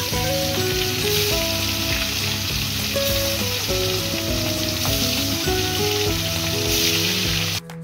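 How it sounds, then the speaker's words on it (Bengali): Pieces of shankar fish (stingray) fry in hot oil with a loud, continuous crackling sizzle, while background music plays steadily throughout. "মাছগুলো সুন্দর করে ভেজে নেব"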